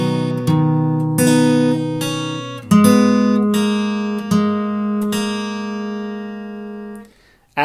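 Guitar part from a song played alone, plucked strings ringing out one after another in a slow, steady strummed and picked sequence, close and clear, with no voice.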